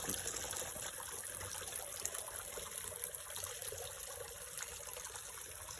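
A small artificial waterfall trickles steadily into a golden apple snail pond, a continuous close splashing and dribbling of water with no voices.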